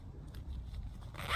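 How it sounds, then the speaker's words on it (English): Zip on a secondhand OEX winter tent being pulled open, a dry, slightly stiff scraping run that ends in a brighter rasp, close up with no talking. "This zip seems a little bit"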